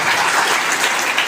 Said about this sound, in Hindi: जोरदार तालियां सबके लिए